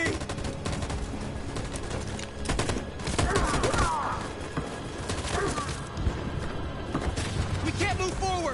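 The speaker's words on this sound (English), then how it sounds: "That machine gun is taking down everything that moves!" Machine gun fire in the video game Detroit: Become Human, steady rattling bursts over a battlefield din with shouted voices and scattered impacts mixed in, fairly loud.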